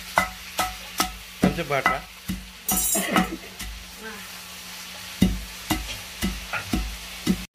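Spices for Telugu gongura pachadi sizzle in a pan while a spoon stirs and scrapes them in a steady rhythm of distinct strokes over a constant low frying hiss, close up, with a few brief spoken words.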